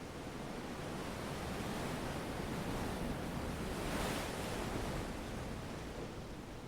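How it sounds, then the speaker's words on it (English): Pacific Ocean surf rolls onto a beach in a steady, broad wash of breaking waves, swelling slightly toward the middle of the stretch, with no voices present. "listened to the sound of the surf"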